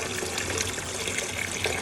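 Water rushing at full flow through a newly installed sink faucet as the cold line is flushed of sediment, a steady, dense splashing hiss with no pauses; no voices.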